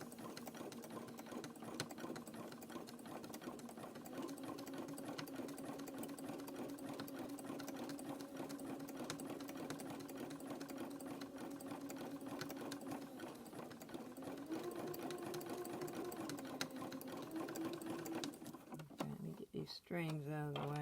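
Sewing machine stitching rope into a fabric coaster, a steady close mechanical whirring hum running nearly unbroken for about eighteen seconds before it stops among a few clattering handling sounds.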